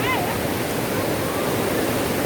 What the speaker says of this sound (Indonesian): ini kami sekeluarga bermain air di sungai ya